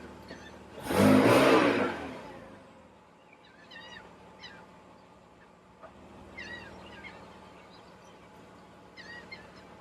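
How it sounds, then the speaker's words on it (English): Sports car engine with special one-off options and the convertible top down, giving one loud, short rev burst before settling to a quiet idle while birds chirp in the background. "You got to hear the sound of that motor."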